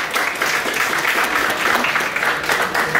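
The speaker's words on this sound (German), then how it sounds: "mit einem Applaus." Steady applause from an audience at a German-language cultural-days event in Berlin, continuous dense clapping held at an even level throughout without voices.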